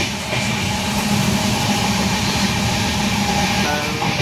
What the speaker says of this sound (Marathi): तर असं ट्रेनमध्ये आता आमचा प्रवास चालू झाला आहे.